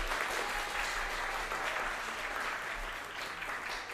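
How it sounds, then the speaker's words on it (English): Audience applauding Monterey County Poetry Out Loud champions at a poetry recitation competition, a dense, even wash of clapping that stays loud from start to finish. "Please give them a round of applause."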